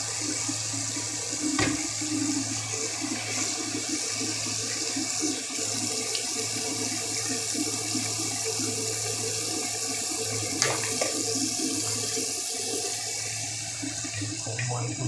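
Water runs steadily from a tap while salted eggs are washed under it, a constant close hiss and splash with a few small knocks, continuing alone throughout.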